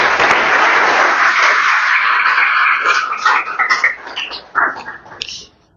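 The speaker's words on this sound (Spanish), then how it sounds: "Un voto de aplauso nuevamente" Audience applause at a university lecture on extractive minerals in metallurgical engineering, a loud burst of clapping that thins into scattered claps and fades toward the end.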